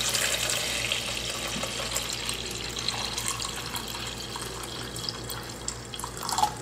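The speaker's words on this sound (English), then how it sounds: "I have my nutrients already pre-mixed. Just shake it. Stir it up. Then I'm just gonna pour that in here." Pre-mixed hydroponic nutrient solution pours steadily into a Kratky-method container for Carolina Reaper peppers, a continuous close splashing trickle of liquid running the whole time with small drips near the end.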